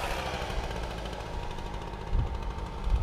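A leaf blower runs steadily outdoors along a back road yard during leaf cleanup, a continuous loud engine drone with a slight surge near the end.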